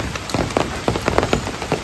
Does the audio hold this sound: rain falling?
yes